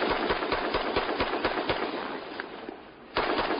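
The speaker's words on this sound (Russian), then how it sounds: "грузинский солдат стреляет по боевику" A Georgian soldier firing a gun in August 2008 news footage, heard as a rapid series of sharp cracks, somewhat distant and muffled, with a brief lull and then one louder report near the end.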